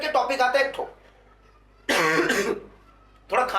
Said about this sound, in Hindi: थोड़ा खांसी है, माफ करिएगा यार